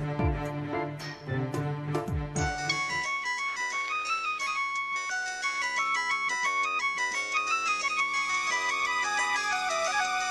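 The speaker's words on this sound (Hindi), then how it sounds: "मोबाइल की घंटी थी, मैंने अपने कान से सुनी है" A bright electronic ringtone plays a looping, chiming melody at steady volume after a few brief clicks and knocks at the start.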